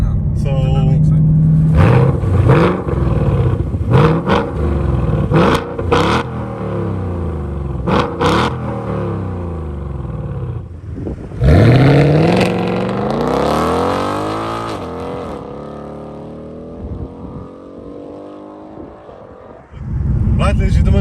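A Ford Mustang California Special with a naturally aspirated V8 rumbles loudly on the road, climbing through repeated revs and gear changes with rising and falling engine pitch, while someone talks over it throughout.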